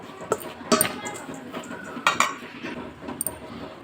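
A spoon clinks and scrapes around a bowl as oats powder and semolina are stirred together for idli batter, giving several sharp, close metallic taps between softer scraping.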